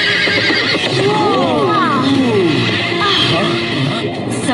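A horse neighs in loud, wavering whinnies that rise and fall across the clip, with clip-clop hoofbeats and a dramatic soundtrack behind, portraying the ancient horse Catastros in a Power Rangers episode.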